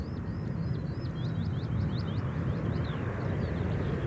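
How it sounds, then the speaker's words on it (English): A Thai Airways Boeing 787 airliner at Gatwick Airport gives a steady, broad jet roar with a rising and falling high whine on top, loud and constant as it passes fairly close. "Looks like a Thai 787 to me without looking at Flight Radar 24"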